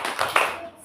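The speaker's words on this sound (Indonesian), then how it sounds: "Tepuk semangat" Classroom clapping during a 'tepuk semangat' spirit clap at an Indonesian primary school lesson: a short burst of many hands clapping together, close and moderately loud, with a slight accented peak midway.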